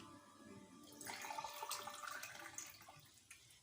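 Water poured into measuring cups in a home kitchen while making sugar syrup, a soft steady splashing stream that starts after a quiet moment and runs for a few seconds, close but faint.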